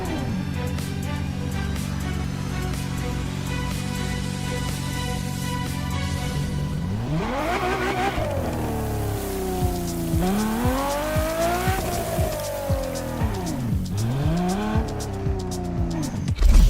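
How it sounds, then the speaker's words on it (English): A Ferrari GTO racing in the video game The Crew Motorfest. The engine holds a steady drone, then revs rise and fall sharply through repeated gear changes and throttle swells, loud and close throughout. "The car you're about to drive in this opening event is none other than the first Ferrari in the supercar bloodline, the Ferrari GTO."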